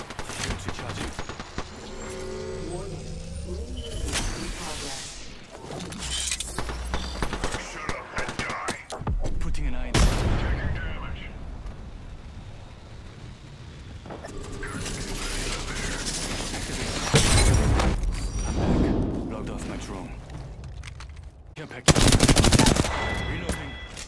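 Video game gunfire in a tactical shooter: repeated bursts of automatic fire and single shots with mechanical clicks and ratcheting, loud and close, spread across the whole stretch with little talk.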